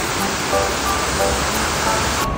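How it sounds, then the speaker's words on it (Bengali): Steady rushing water from an outdoor fountain outside Rome's Leonardo da Vinci airport, a continuous broadband splash with no pauses, moderately loud and close. "বাইরের ঝর্ণাটা দেখে ফিদা হয়ে গেলাম"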